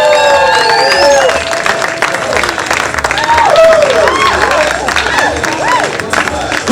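A pin-up pageant audience bursts into loud, sustained clapping and whooping cheers for the contestants, a dense, close crowd roar that stays strong throughout with scattered shouts.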